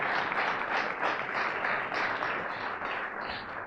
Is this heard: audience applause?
yes